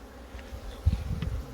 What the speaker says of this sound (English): There's a bit of bees in there